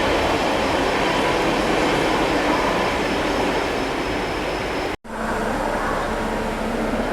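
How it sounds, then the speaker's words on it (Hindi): The Sampoorna Kranti express roars through Prayagraj station at speed, a loud sustained rush of wheels and carriages close by, broken by a brief sharp gap near the end before the rumble resumes. "सामने देखो कितनी रफ्तार में संपूर्ण क्रांति यानी कि आम जनता की राजधानी, भाई सब क्या स्पीड पे प्रयागराज को स्किप कर रही है"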